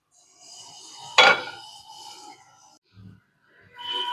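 Roasted rava being poured out of a kadai into a vessel: a sharp metallic scrape and clatter of the pan, then soft rustling pours and light knocks of metal cookware in a quiet kitchen.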